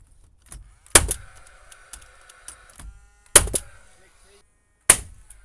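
Timber framing being nailed off on a new house build, a few sharp nail-gun shots: one near 1 s, a close pair around 3.4 s and another near 5 s, with quiet workshop sounds between.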